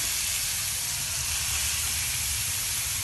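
Grated carrots hiss and sizzle in melted ghee in a pan, a steady loud frying crackle heard alone and close up.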